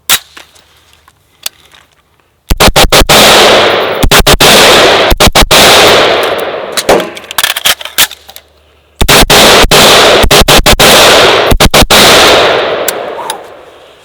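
A SIG Sauer MCX Spear LT rifle fires on an outdoor range in two loud bursts of rapid, sharp shots separated by a short quiet pause, each report ringing briefly before the next, and no voices.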